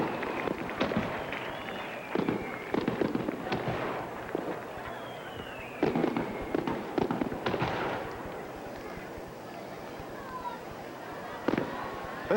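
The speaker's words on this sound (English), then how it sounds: "Fireworks that you can't see." Fireworks go off over a stadium at the 1985 Canada Games closing ceremony in Saint John, New Brunswick, with scattered distant booms and crackling pops under steady commentary.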